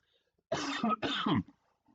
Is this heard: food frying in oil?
no